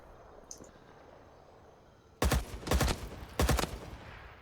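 Bursts of machine gun fire in the Vietnam-era shooter game Rising Storm 2, with a looted machine gun: two loud rapid volleys close by, broken by a short pause, after a quiet lead-in.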